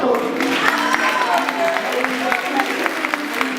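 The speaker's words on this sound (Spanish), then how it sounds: "Un aplauso para estos chicos." Audience at the 2014 Galician IFBB bodybuilding championship, men's physique category, applauding steadily for a few seconds, with crowd voices mixed into the sustained clapping.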